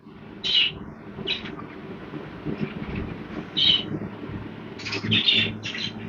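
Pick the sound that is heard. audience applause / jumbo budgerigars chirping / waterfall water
jumbo budgerigars chirping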